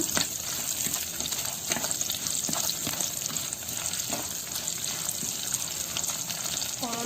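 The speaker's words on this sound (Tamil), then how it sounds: "இப்போ நம்ம எடுத்து வச்சிருக்க கல்பாசி, சோம்பு, பட்டை, பிரியாணி இலை, அன்னாசி பூ போட்டு நல்லா ஃப்ரை பண்ணிக்கோங்க" Whole spices such as stone flower, fennel, cinnamon, bay leaf and star anise fry in hot oil for a Chettinad mutton pepper chukka, giving a steady, close, dense sizzle with occasional stirring clicks throughout.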